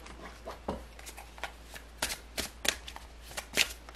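Tarot cards being shuffled by hand up close, a continuous riffling patter of card edges with quick flicks and taps, soft and steady, with no voices.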